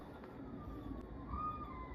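A police siren wails faintly in the distance, its thin rising and falling tone sitting low under steady outdoor background noise.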